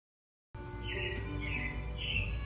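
Recorded robin chirps play in Disney's Carousel of Progress show at the Magic Kingdom: three short high chirping phrases over a steady background hum, fairly faint.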